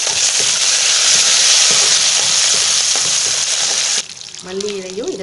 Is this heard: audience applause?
no